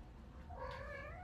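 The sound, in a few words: cat meowing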